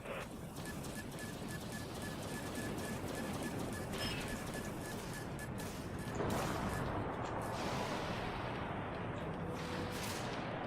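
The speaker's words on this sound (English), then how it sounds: "Broadside guns firing." Broadside guns on a warship in the game Dreadnought fire in a dense, continuous barrage of booming shots, steady and loud throughout with a swell of heavier blasts partway through.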